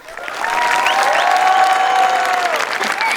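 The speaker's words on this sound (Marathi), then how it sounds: "टाळ्यांचा आवाज ऐकलात का हो" Audience applause for a guest comedian at a Marathi comedy show's inauguration event, a dense sustained clapping crowd swelling after the first half-second and holding steady, with some faint cheering mixed in.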